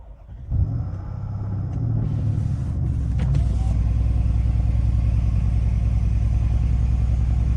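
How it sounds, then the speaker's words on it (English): A Mercedes GLE63s AMG with the M157 twin-turbo V8 cold-starts: a starter catch, a sharp flare, then a loud, steady high idle with turbo whine, rumbling alone and close up. "Oh, I love that cold start turbo spool sound."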